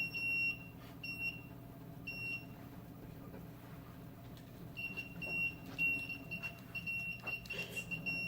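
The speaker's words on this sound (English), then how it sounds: "if I close the distance with my hands, it will turn on the buzzer and the LED" A small electronic buzzer on a Raspberry Pi breadboard circuit sounds in short, thin, high beeps, several brief ones and then a faster repeating run, faint over a hum of room noise.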